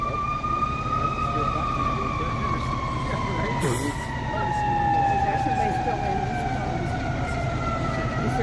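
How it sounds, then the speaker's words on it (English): An ambulance's wailing siren sweeps past with traffic rumble underneath near a van rollover crash in Huntington Beach, rising then fading slightly as the vehicle moves by. "There goes the ambulance."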